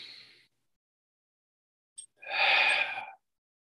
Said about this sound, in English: Take a deep breath in through your nose and an open mouth exhale.